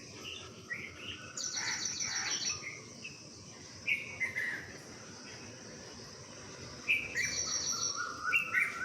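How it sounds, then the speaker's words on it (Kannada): Birds call in the early morning near a riverside home: bright chirps and short trills come and go at moderate distance, over a soft continuous insect drone. "ಹಕ್ಕಿಗಳ ಚಿಲಿಪಿಲಿ ಬೆಳಗ್ಗೆನೆ ಖುಷಿ ಅನಿಸುತ್ತಲ್ವಾ?"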